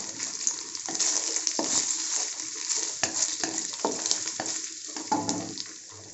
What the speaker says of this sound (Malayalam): ഇനി ഇതൊന്ന് ഫ്രൈ ചെയ്ത് ജസ്റ്റ് ഒന്ന് കളർ മാറി വരുന്ന പോലെ ആയാൽ